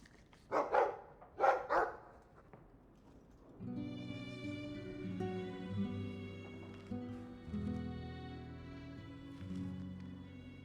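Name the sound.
dog barking in video game Dragon Age cutscene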